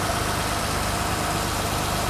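A Mercedes W123 280E petrol engine idles steadily after fuel distributor repair, a continuous close, even rumble with a regular low pulse and no talk.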